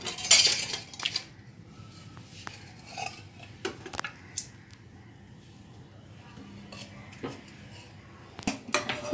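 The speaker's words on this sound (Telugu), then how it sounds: "స్టవ్ మీద ఒక బాండి పెట్టుకుందాం। పెట్టుకొని కొంచెం ఆయిల్ వేసుకుందాం।" A kadai set down on a stove and oil poured in while making stuffed tindora, heard as clattering metal knocks and clinks of pans and utensils with quieter handling noises between them.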